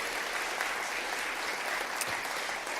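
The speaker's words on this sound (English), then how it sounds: "Please give them a big round of applause as well." Audience applause at a talk on kind leadership, a steady dense wash of many hands clapping that holds evenly for the whole stretch without any voices on top.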